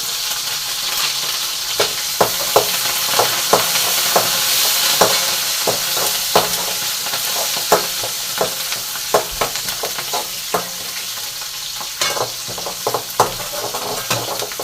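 Shallots, green chillies and curry leaves frying for kuzhambu in a pan, a loud steady sizzle with frequent sharp clacks and scrapes of a stirring spoon, close and alone.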